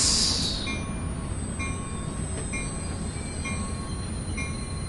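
A train runs in the Train Sim World 2020 video game: steady rumbling rail noise with faint wheel squeals and intermittent metallic tones, continuous and fairly quiet throughout.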